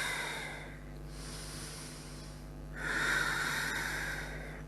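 Slow, deep yoga breaths come close and audible, a long airy inhale followed by a quieter pause and a stronger, hissing exhale near the end, with no talking.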